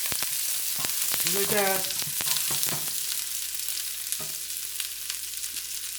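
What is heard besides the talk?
onions frying in a pan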